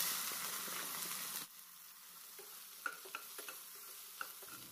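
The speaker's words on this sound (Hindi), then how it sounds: "अब हमें इस बार भिंडी को फ्राई करना है, मतलब भून लेना है।" Okra frying in a little refined oil, a soft sizzle that drops to quieter frying with a few sharp stirring clicks.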